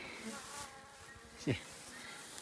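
A faint bee buzz hums through the background near a beehive pollen trap, with one brief low thump around the middle.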